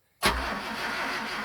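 A Land and Sea Craft boat engine catches on a start attempt, a sudden loud burst that settles straight into a steady, rough running drone.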